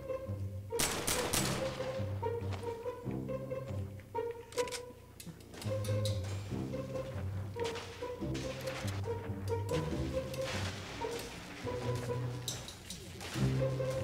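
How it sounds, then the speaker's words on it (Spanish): Gunfire in the Fortnite video game: bursts and single shots crack out repeatedly across a steady, tonal game-music background, with some talk mixed in. "Miren, allá se estaban disparando los güeyes."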